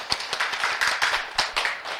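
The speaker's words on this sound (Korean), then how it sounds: "박수 왜 이렇게 대충 쳐요?" A Korean real-estate law class in a lecture room claps together, a brisk, irregular patter of many hands at moderate loudness lasting about two seconds, with no voices over it.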